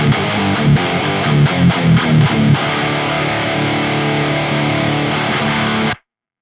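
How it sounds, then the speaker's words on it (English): A heavily distorted electric guitar through a distortion pedal in the Archetype: Gojira X amp plugin plays several choppy chords, then lets a thick, fuzzy chord ring out until it cuts off abruptly. "Onto the second device in the pre-effects, we have the distortion pedal,"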